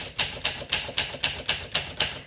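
Typing on a 1962 Olympia SM5 manual typewriter: eight crisp, evenly spaced key strikes in a steady rhythm, each a sharp close clack with a brief decay, with no voices.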